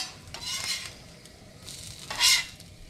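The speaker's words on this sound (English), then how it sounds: "And then you take this bit and you scrape it up." A metal spatula scrapes seared birria meat off a hot griddle in a few short rasping strokes, the last one the loudest, over a faint sizzle.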